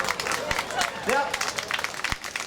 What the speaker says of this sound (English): The people are clapping.